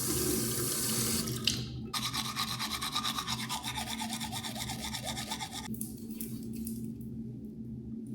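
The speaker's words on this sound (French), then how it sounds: "Je vais me brosser les dents déjà." Teeth are brushed beside a running tap, the water hissing steadily into the sink while the brush scrubs in a fast, rhythmic rasp up close, then the tap cuts off and faint brushing continues.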